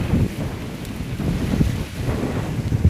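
Cold wind blows outdoors, buffeting the microphone in a steady, rumbling low roar with uneven gusts throughout and no voices.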